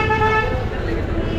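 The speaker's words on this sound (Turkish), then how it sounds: "Korna susmuyor her zamanki gibi." Car horns honk steadily on a busy street in India, a continuous blaring tone over low traffic rumble, heard up close.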